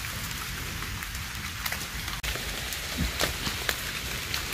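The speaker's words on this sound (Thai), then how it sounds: "เสียงเม็ดฝนเด้อพี่น้องแป๊กปกแป๊กเลยลงเม็ดใหญ่เนี่ยล่ะ" Steady rain with large raindrops pattering loudly and continuously on surfaces outdoors during a mushroom-foraging outing in the wet season, with occasional heavier drop hits and no talking.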